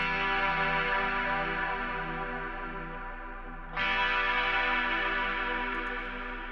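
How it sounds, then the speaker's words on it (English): Sustained electric guitar chord washed in lush reverb without shimmer feedback, from an FL Studio 21 plugin, ringing out and decaying, then a fresh strum swells back in at similar loudness. "And then here's without the feedback and just the reverb."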